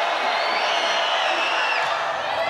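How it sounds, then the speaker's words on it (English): A women's college volleyball crowd at a BYU versus Weber State match makes a steady, loud wash of cheering and noise from the arena stands, continuous through the short moment. "Crowd making some noise."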